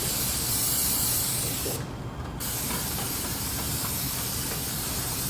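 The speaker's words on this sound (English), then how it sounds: "you want to get in there with some brake clean and clean it off so it doesn't spill all over your driveway" Brake cleaner is sprayed from an aerosol can onto a Dodge Ram Hemi truck frame during an oil change, a loud, continuous close hiss that runs almost without break for several seconds.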